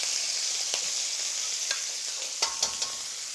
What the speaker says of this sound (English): And let it sizzle away.